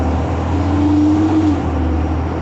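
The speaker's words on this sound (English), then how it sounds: "The engine is kind of loud too." A bus engine drones loud and steady from inside the moving vehicle on a Pennsylvania road, a constant low hum with a slight rise in pitch partway through.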